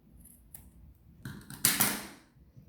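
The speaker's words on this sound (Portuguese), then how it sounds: "dá uma puxadinha e já pode cortar as sobras" Scissors snip off leftover material on a sewn diaper holder: a few quiet mechanical clicks, then a louder crisp cut that fades out, near and alone.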